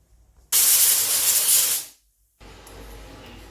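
A pressure cooker of moong dal vents steam in a loud, close hiss lasting just over a second, then cuts off abruptly, followed by quieter background noise.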